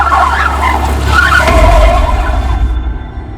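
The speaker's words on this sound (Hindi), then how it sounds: "गाड़ी घुमा।" Car swinging around sharply with tires skidding and squealing over a rumbling engine, loud and close, the screech fading out toward the end.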